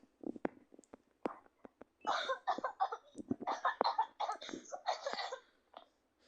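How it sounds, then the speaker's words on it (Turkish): Several short, sharp coughs, then breathy throat noises and muffled vocal sounds close to the mic, with brief pauses between bursts. "Düzgün öksür düzgün."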